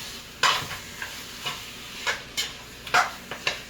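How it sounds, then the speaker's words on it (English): Curry goat being stirred in a pot, a utensil scraping and knocking against the metal in about eight separate strokes over a low sizzle, close up, with no talking. "So I'm gonna stir it just for a minute."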